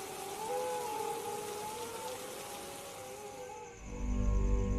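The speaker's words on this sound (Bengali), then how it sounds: "বাইরে এত বৃষ্টি হচ্ছে" Heavy rain pours steadily outside as a cartoon sound effect, a dense continuous hiss that shifts to a deeper rumbling wash near the end, with a faint wavering tone running over it.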